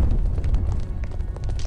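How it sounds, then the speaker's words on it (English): A deep, rumbling explosion roars from an animated series battle scene in Legend of Korra, heavy low-end blast sustained over its short length with crackling debris on top. "We heard explosions."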